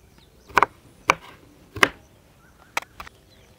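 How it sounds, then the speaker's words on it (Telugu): Four crisp knife chops cut through lemons on a board, each a sharp isolated thwack spaced about half a second to a second apart, close and fairly loud with quiet gaps between. "ఇప్పుడు ఈ 3 నిమ్మకాయలు కోసుకొని రసం తీసి ఇంగువ నిమ్మకాయ రసం కలిపి పక్కన పెట్టుకుందాం"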